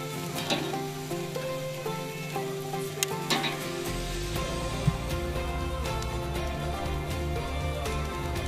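Food sizzling on a barbecue grill, a steady close crackling hiss with small pops throughout, continuous and fairly loud.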